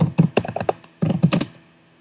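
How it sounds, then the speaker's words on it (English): Rapid typing on a computer keyboard while entering chat text in Minecraft: two close bursts of crisp key clicks separated by a brief pause, then quiet. "This is done by typing into the chat"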